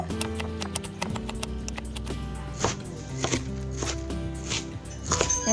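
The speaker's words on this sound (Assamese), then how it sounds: "এতিয়া ষ্টিলৰ গিলাসৰ সহায়ত এতিয়া মই আকৌ অকমান মিহিকৈ এনেকৈ ভিডিঅ'টো দেখুৱাৰ দৰে মিহি কৰি লৈ লৈছো।" Food for a banana flower dish is mashed fine with a steel glass, a run of repeated sharp knocks and thuds against a hard surface, quick and regular at first, then sparser and heavier, with a faint ringing hum underneath.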